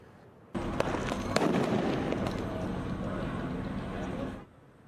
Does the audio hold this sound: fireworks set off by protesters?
yes